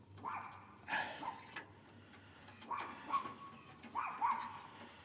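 Dogs on a rural property bark and whimper at a distance in short, spaced bursts, fairly faint against quiet surroundings.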